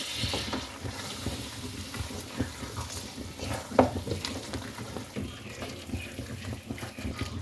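Shalgam palak gosht curry being stirred in a pot after resting, with soft wet scraping and sloshing of the thick mixture, fairly quiet and continuous, with no talking.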